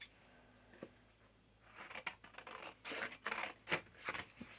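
Scissors trimming a mixed media piece on canvas, several close, quiet snipping and scraping cuts after a near-silent start, with no talking.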